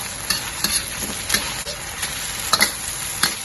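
Pork cubes stir-fried over high heat with broccoli, mushroom and red chili sizzle steadily in a wok, with sharp, regular scrapes and clacks of a spatula cutting through the hiss.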